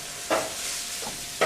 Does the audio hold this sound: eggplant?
yes